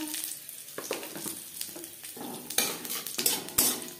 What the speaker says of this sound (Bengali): লঙ্কা ভেজে নেওয়ার পর দিয়ে দেব তেজপাতা